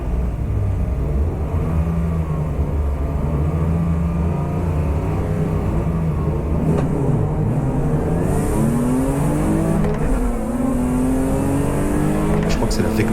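Race cars roar off the line at a Superberline sprint race start at Dijon, an Opel Vectra among them, heard loud from inside an accelerating car. The engine note climbs through repeated gear changes while other engines rumble around it.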